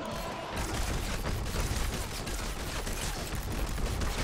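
Dense, continuous gunfire in Fortnite during a fight with a level-100 Ice Queen boss, loud and sustained across the whole stretch with no talking.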